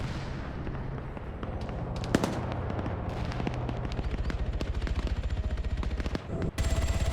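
Continuous rapid machine-gun fire and impacts landing nearby in a video game rumble as dense, steady rattling throughout, with a sharp blast near the middle and a brief dip before the barrage resumes.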